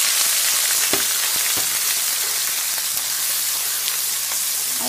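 Garlic and ginger frying in hot oil for chicken biryani, a steady loud sizzle filling the whole stretch with occasional sharper pops and crackles, no voices.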